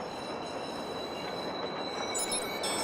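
A train pulls into a station in the Watch Dogs video game, giving a steady rolling rumble and hiss with a faint high metallic squeal near the end. No one speaks.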